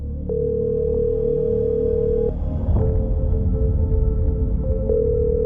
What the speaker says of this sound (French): elle saisit son téléphone et composa calmement le numéro des urgences